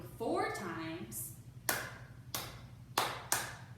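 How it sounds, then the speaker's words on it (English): Four sharp hand claps ring out in an uneven rhythm during a children's storytime, following a woman's sung or spoken line, close and distinct against a faint steady hum. "So now we're clapping 4 times."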